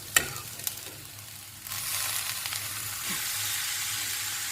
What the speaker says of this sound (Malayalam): അതിനകത്തേക്ക് ചക്കയിട്ട് ഇളക്കി തട്ടിപ്പൊത്തി മൂടി വെക്കുക.